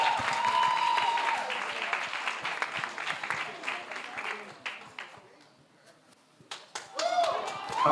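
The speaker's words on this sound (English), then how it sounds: "Huge round of applause." Applause at the Ecobank Fintech Challenge 2024 semi-finals, a crowd clapping for a finalist while a host talks over it, fading briefly before swelling again at the end.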